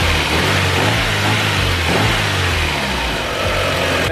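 A car engine runs steadily after its MAF sensor has been cleaned, a continuous close mid-range hum with a faint rise in revs partway through and no talking.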